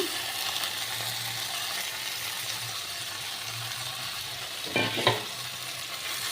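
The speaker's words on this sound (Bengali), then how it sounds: "এবার আমি ফুলকপি আর আলুটাকে দিয়ে দিলাম" Cauliflower and potatoes fry in a pan with a steady, close sizzle throughout, and a couple of brief scraping stirs break through near the end.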